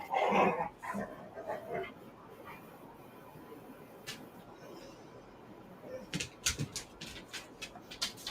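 Dogs barking and yipping, a cluster of sharp barks at the start, then quieter whimpers and scattered yelps, ending in a quick run of close, loud barks over faint background noise.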